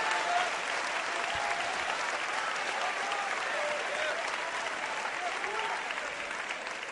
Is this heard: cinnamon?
no